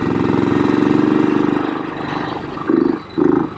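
A BSA Victor Special 441, a classic long-stroke single-cylinder dirt bike, chugs and idles close by, then gives two short blips of the throttle near the end, with no one talking.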